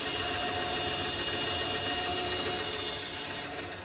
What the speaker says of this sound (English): We're cutting out the primary contour now, taking our time, keeping the blade perpendicular to the wood.